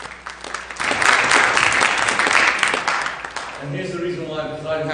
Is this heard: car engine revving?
no